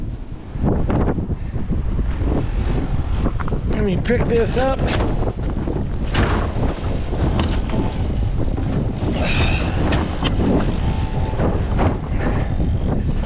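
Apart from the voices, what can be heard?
strong gusty wind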